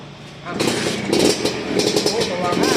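A motorcycle engine cranks and catches after a moment, then runs with a rough, loud rumble close by, and a voice is heard over it.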